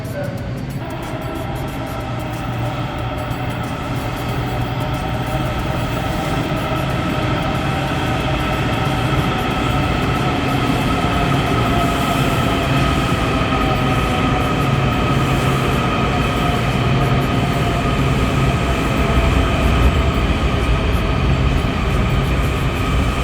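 A Blue Line metro train arriving at a station rumbles steadily nearby with a constant mechanical hum and faint high wheel squeal, growing slightly louder over the whole stretch.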